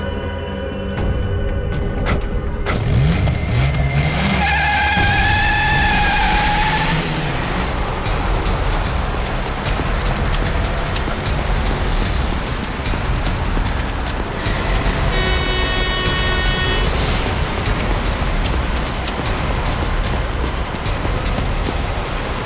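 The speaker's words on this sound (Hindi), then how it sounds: "अबे गाड़ी भगा, तेज चला।" A car speeding away in a rushed getaway, loud continuous engine and road roar filling the scene with a brief horn-like tone early on and a whine near the end.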